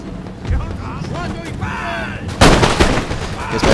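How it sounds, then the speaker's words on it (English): Line infantry firing muskets at Swedes from a forest in a Napoleonic-era strategy game, a loud crackling volley bursting out midway after scattered shots, over game ambience and brief voices. "Here's my men in the forest firing on the Swedes."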